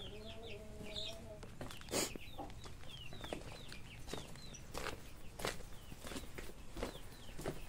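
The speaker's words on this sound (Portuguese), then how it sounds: "Aí um frango e uma franga também." A cockerel and a pullet cluck and chirp repeatedly in a yard, faint and fairly distant, with footsteps and rustling around them.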